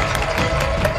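Dense audience applause and cheering fill a crosstalk comedy show stage, loud and continuous throughout a brief stretch with no break.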